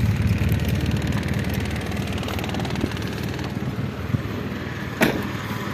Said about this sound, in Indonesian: Kita sekarang nyalain mesinnya.